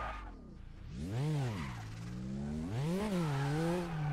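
Tyre squeal from a Porsche in the RaceRoom racing game, two rising and falling screeches from tyres sliding under a steady engine drone, loud and close.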